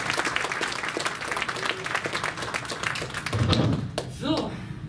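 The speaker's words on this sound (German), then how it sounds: "Super, ein Applaus." Audience at a hypnosis and NLP congress applauding, a dense patter of clapping that swells and fades over a few seconds, with a voice speaking over it near the end.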